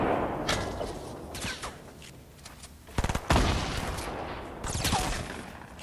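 Bursts of Fortnite gunfire in a video game battle, clustered shots and a louder volley near the middle, ringing over a steady background rumble with no talk.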